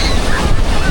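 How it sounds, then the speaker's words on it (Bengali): Rough, surging sea waves at Puri beach roar loudly and continuously, with a wind-blown rush that fills the whole short moment. "সমুদ্র পুরো উত্তাল"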